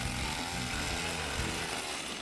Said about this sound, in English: And here's Vinny Costello using a gas engine powered auger to quickly drill 6 to 8 holes in the ice.